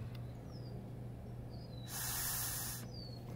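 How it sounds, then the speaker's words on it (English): Air is blown through a hose on a Tesla motor's plumbing fitting to clear excess Loctite, heard as a single close, steady hiss lasting about a second over quiet room noise. "You just put a hose on there and blow in it."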